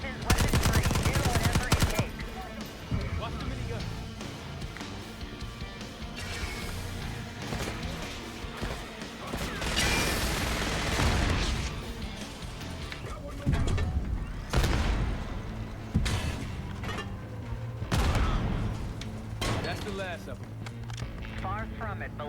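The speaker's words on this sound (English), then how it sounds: "Watch the minigun." Minigun fire in the Call of Duty: Black Ops 6 campaign, sustained rattling bursts mixed with explosions, mechanical clatter and game soundtrack, while characters talk over the action.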